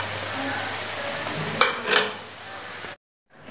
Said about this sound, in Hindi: इसी तरह करके मैं सारे पकौड़ियों को फ्राई कर लेती हूँ